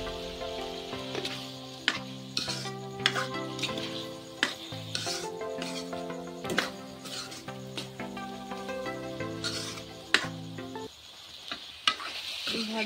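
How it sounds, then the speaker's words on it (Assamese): Jackfruit curry sizzles in a pan while a utensil stirs it, scraping and clinking against the metal in irregular strokes over steady frying, with light background music. "কঁঠালখিনি অকণমান লৰাই থাকিব"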